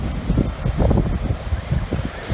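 Ocean waves wash onto the beach at Tybee Island in a continuous rolling surf, with gusty wind buffeting the microphone up close.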